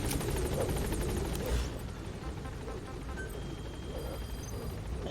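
A helicopter in the video game Metal Gear Solid V: The Phantom Pain gives a steady rotor chop at moderate volume, with a rapid beat at the start and a low rumble beneath.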